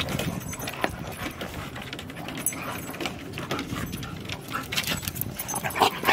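Several dogs moving about outdoors while foraging for breakfast, with paws and jingling tags amid a busy, continuous rustle of activity, fairly close and steady throughout.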